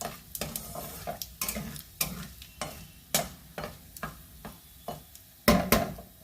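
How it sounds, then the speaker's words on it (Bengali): Panch phoron and dried chillies frying in hot oil for a Bengali winter-vegetable dish, with a steady close sizzle broken by repeated sharp ticks and scrapes of stirring against the pan, no voices. "পাঁচফোড়ন আর শুকনো লঙ্কা দিয়ে দিয়েছি।"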